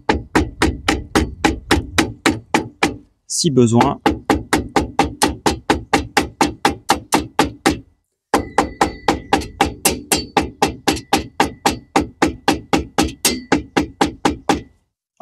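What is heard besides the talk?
hammering a wall anchor into a drilled hole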